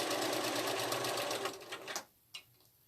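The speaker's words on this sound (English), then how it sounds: "So I'm sewing just inside that folded edge" A sewing machine runs steadily while top stitching along a folded fabric edge, a close, even rapid whir that stops around two seconds in, followed by a brief mechanical click.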